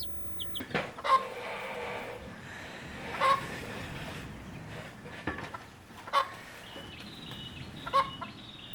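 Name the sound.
chickens clucking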